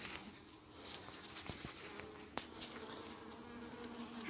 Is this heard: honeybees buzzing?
yes